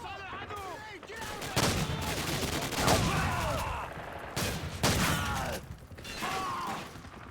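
Shotgun fire in Call of Duty 4's campaign, with several sharp, loud blasts spaced a second or two apart among game effects and mechanical clatter.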